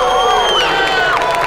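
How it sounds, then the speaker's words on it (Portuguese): An excited crowd at the Rei da Selva Combat fight event in a samba school hall, packed house, shouts and cheers in a loud, dense roar with high whoops rising over it, continuous throughout. "torcida empolgada."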